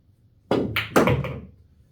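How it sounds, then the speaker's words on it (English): Cue ball striking the 5 ball in a game of 8-ball pool, hit with draw: two sharp, close clacks about half a second apart, the second louder, with a short ringing tail and no talk. "So I'm going to shoot the 5 ball here, and I'm actually going to draw it backwards"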